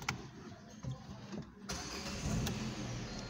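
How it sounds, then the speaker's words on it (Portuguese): A 2020 Renault Sandero Zen engine starting: a couple of clicks and a brief cranking, then the motor catches and settles into a low, steady idle, faint and close inside the car. "Vou ligar realmente o veículo para vocês."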